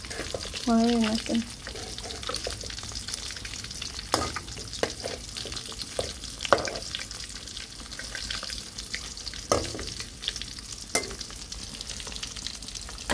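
Fish frying crisply in hot oil makes a continuous close crackling sizzle, with scattered sharp pops and a few scraping stirs, and a brief tonal sound near the start.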